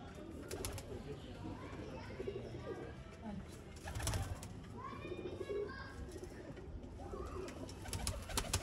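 Soft female pigeon coos repeat in low, throaty phrases, accompanied by rustling, background chatter and a few distant chirps.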